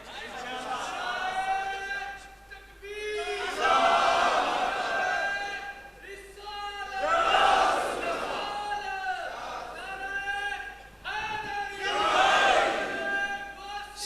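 A large crowd at a Tehreek-e-Labbaik Pakistan rally in Burewala chants religious political slogans in rhythmic bursts, loud massed voices rising and falling in call-and-response waves, with a leader's amplified voice leading between them.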